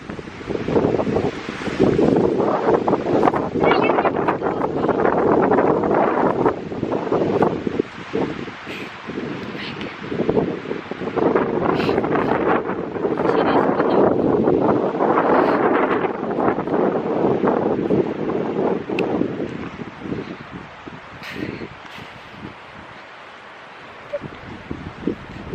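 Strong seaside wind buffets the microphone in a continuous loud roar that rises and falls in gusts for most of the stretch, then eases off toward the end.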